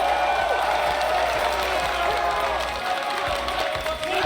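A crowd at a Fortnite esports event applauds and cheers for a team, a loud continuous roar of clapping and shouting with no break.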